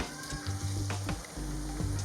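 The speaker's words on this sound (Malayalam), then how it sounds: "ഇതൊരു 8 അല്ലി വെളുത്തുള്ളിയാണ്, ചെറുതായി നീളത്തിൽ അരിഞ്ഞതാണ്. എല്ലാം ഒരു മിനിറ്റ് നന്നായിട്ടൊന്ന് മൂപ്പിച്ചെടുക്കണം." Sliced garlic, eight cloves cut into thin lengthwise slivers, frying in hot oil in a pan for lemon pickle: a steady close sizzle with a low hum and a few soft stirring clicks, no voices.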